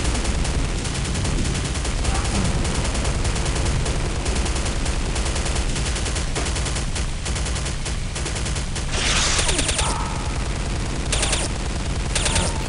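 Dense, continuous gunfire from Counter-Strike: Condition Zero Deleted Scenes, a first-person shooter video game, rattles on throughout in loud automatic volleys, with no talk heard.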